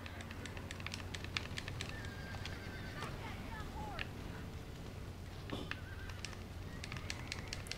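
In a Red Dead Redemption barn fire, horses whinny in high, falling cries among rapid hoof clatter, with a steady low rumble and crackle underneath throughout.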